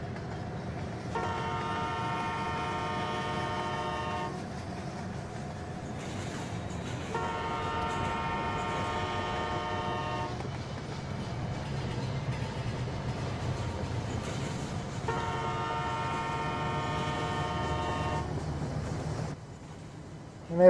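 Three long horn blasts, each lasting about three seconds, come from a locomotive in the railway simulation game Rolling Lines, sounding alone over a steady low rumble of train running noise.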